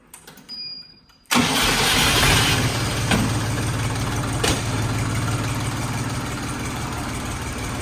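A car engine cranks and catches after a second of near quiet, then settles into a loud, steady idle close by.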